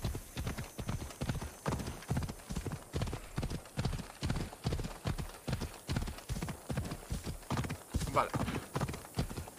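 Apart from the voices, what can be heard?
horse hooves galloping in the video game Assassin's Creed Odyssey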